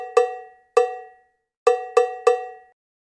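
Five dry, ringing strikes on a cowbell or wood block tap out a rhythm exercise: two spaced hits, a pause, then three quicker hits, each clear and alone with a short decay.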